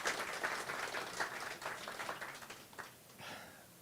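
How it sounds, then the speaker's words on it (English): Wedding ceremony guests applaud the speakers with a faint, scattered round of clapping that thins out toward the end, with some breathing close to the microphone. "Could we give them a round of applause, please?"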